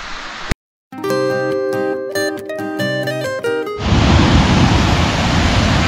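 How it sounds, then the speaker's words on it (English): A roadside waterfall in New River Gorge gives a steady, loud rushing hiss. A brief silence and a run of sustained musical tones break in midway, then the rushing returns, louder and fuller. "Roadside waterfall!"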